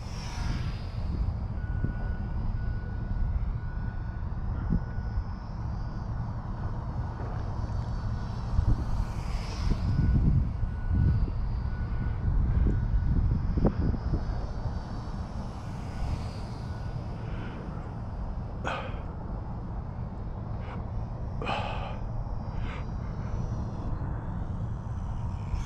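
A small Eachine mini T-28 radio-controlled model airplane flies outdoors in light wind, its motor a steady buzzing drone throughout with a few sharp clicks and brief louder swells, no talk.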